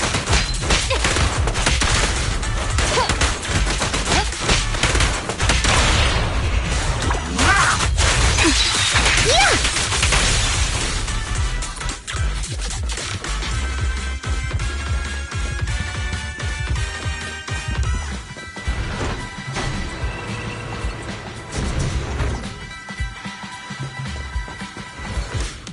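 Zenless Zone Zero combat on PS5 Pro, with loud, dense bursts of gunfire, whooshes, impacts and crashes running continuously, overlaid with game music and occasional voice lines.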